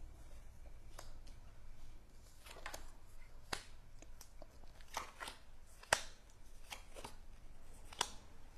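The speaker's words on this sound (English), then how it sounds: "So let's flip all the cards." Tarot cards flipped over one after another during a reading: a series of sharp, quiet card snaps and slides with soft shuffling between, scattered irregularly over a faint room hiss, with no talking.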